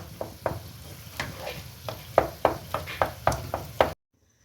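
Cooked turnips are mashed in a pot with the heat off, producing about a dozen soft, evenly spaced thuds and squelches that build in strength before stopping abruptly.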